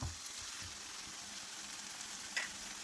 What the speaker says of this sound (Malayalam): ഉള്ളിയും തക്കാളിയൊക്കെ ഇവിടെ നല്ലതുപോലെ വഴന്ന് വന്നിട്ടുണ്ട്